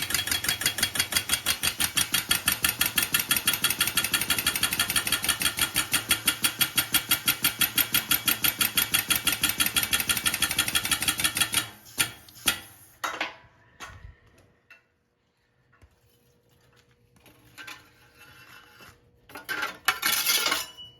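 A press brake at an off-road fabrication shop bends metal with a rapid, steady mechanical pulsing for about eleven seconds, then stops, leaving scattered clanks and knocks.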